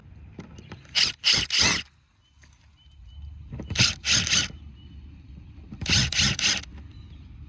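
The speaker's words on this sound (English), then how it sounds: "let's go ahead and take these 4 screws out" A power drill whirs in three short bursts, each a couple of seconds long, removing screws from an RV tail light, separated by quieter pauses with faint background noise.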